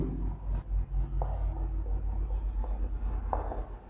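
Pen scratching on paper as measurements are written out while working a maths problem, a steady run of soft rubbing strokes and short scrapes, close and fairly quiet with no talking.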